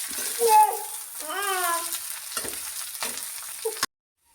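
Kanthari chilli pickle ingredients sautéing in a pan and being stirred: a close, crackling sizzle with spatula strokes, a voice briefly heard partway through, then abrupt silence near the end.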